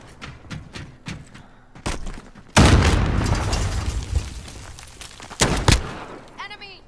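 Gunfire in a shooter video game comes as loud sharp bursts, with a long, booming stretch of fire in the middle and a few closer pops near the end, mixed with an agitated player's voice.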